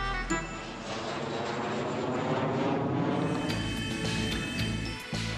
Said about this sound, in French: Regardez à droite, c'est l'avion de Brandon Vamp